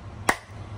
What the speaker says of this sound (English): Let's give it a firework clap since we saw fireworks on 4th of July in our book.